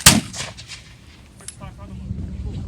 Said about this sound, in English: we just got to see a demonstration of historic musket fire by some volunteers